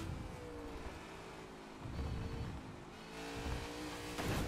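Race car engine in the NASCAR 21 Ignition video game, a steady droning whine that swells and eases as the car is throttled through a corner, moderately loud with no voices.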